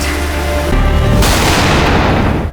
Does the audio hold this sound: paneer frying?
no